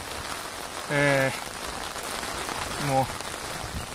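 Heavy rain falls steadily near Nagasaki's Sakamoto Ryoma statue, a dense continuous hiss filling the scene while a voice speaks briefly twice over it.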